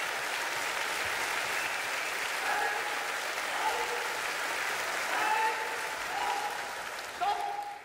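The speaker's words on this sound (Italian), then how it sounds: "Unsere Figaro, Moschi Franz, geben Sie mir noch einen riesen Applaus." Sustained audience applause at an orchestra concert, a dense, even wash of clapping from a large crowd that carries on throughout, with faint voices beneath.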